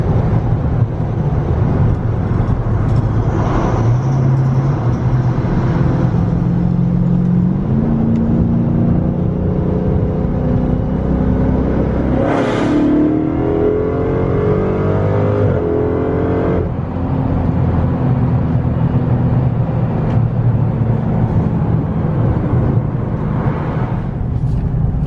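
A Dodge Charger Redeye with a cat-delete exhaust pulls hard from a 60 mph roll, its engine note climbing through gears with loud, continuous roaring and a sharp shift bark midway, heard from inside the car.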